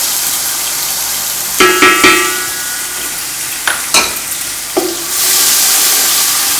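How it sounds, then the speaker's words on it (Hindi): A few sharp clattering hits, then a broad steady hiss of garlic ginger paste sizzling loudly in hot oil, continuing to the end. "तेल गरम हो चुका है। अब मैं इसमें लहसुन डालूँगी। लहसुन अदरक का पेस्ट शामिल करूँगी।"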